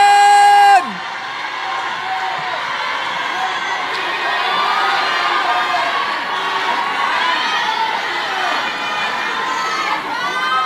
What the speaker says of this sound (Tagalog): Tatagal tayo sa sigawan ninyo, sandali lang.